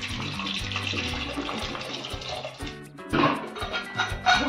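Water poured from a tap into a pot for boiling potatoes, a short gushing splash that swells and thickens toward the end, close and moderately loud.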